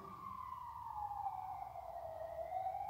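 A wailing siren sweeps slowly downward in pitch, loud and steady for the whole stretch, with a low rumble of traffic underneath.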